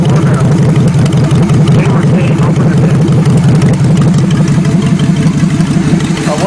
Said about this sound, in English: Less than 1 minute later, it's running perfect. The motor is still cold.